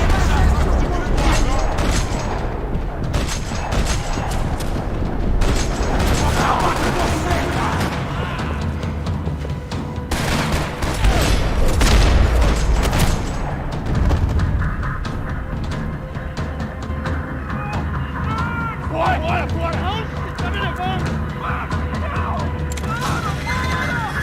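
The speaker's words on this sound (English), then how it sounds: "Another parking lot rattling with gunfire." Video game gunfire from Max Payne 3 in a parking lot: dense, loud bursts of shots and booming impacts run almost continuously, with crashes and mechanical clatter layered through the action.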